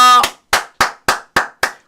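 Six sharp, evenly spaced hand claps ring out close and loud at a steady rhythm, each with a short reverberant tail, following a brief held tone at the start.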